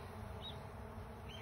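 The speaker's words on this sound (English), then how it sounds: "See the bees coming up here?" Honeybees buzz softly and steadily around an open long hive during an inspection, a low continuous hum with no talking over it.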